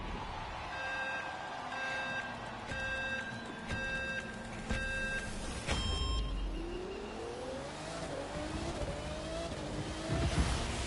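A 1,025-horsepower, 270 mph car in The Crew 2 racing game revs up with a rising, whining engine sweep after some electronic beeping tones, the pitch climbing steadily toward the end.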